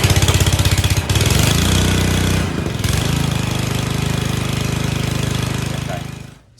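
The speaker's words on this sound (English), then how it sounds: "now the mower's nice and warmed up now" Honda HRU216 lawn mower engine running close by, a loud steady chugging drone with a rapid pulsing beat and a brief dip partway through before it cuts off at the end.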